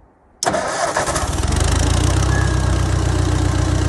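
Small engine on a lot, choked and pulled over, catches abruptly and roars into a loud, steady run with a low rumble building underneath, no talk.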